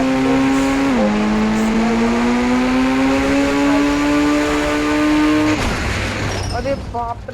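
Engine drone of a vehicle in the Indian Bike Driving 3D video game, a steady loud hum that dips and climbs in pitch as it revs, then cuts off abruptly with other game sounds after.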